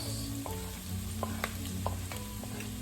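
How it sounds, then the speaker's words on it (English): Garlic and onions sauté in a pan for pork blood stew, a steady background sizzle broken by sharp scraping clicks of a utensil stirring against the pan. "So we're incorporating the garlic, the onions."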